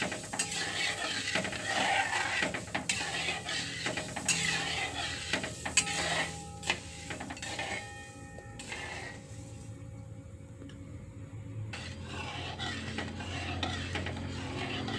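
A spoon stirs sugar dissolving in water in a pan while making sugar ghati sweets for Gudi Padwa, giving steady close scraping and clicking with a soft sizzle underneath and no talking.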